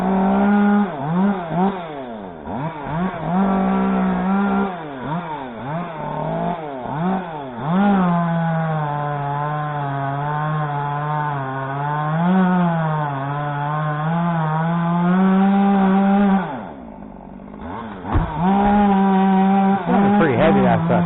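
A chainsaw cuts into a danger tree, its engine holding a steady loud whine that dips and rises as the chain bites into the wood, with brief lulls between passes.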